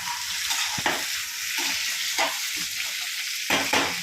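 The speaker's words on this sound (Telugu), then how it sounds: "ఇది ఒకసారి కలుపుకొని మళ్ళీ ఒక 5 minutes సిమ్లో పెడదాం" Vegetable biryani with capsicum is stirred in a pot over a steady sizzle, with a spoon making repeated scraping strokes at an irregular rhythm.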